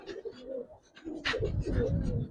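Giribaz pigeons on a rooftop loft coo in low, throaty rolling sounds, close by and continuous, with a person's voice briefly heard over them.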